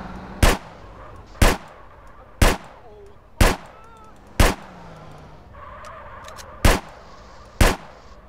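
Desert Eagle pistol fired in GTA San Andreas, eight loud sharp gunshots spaced roughly a second apart with brief decays, over quiet game ambience.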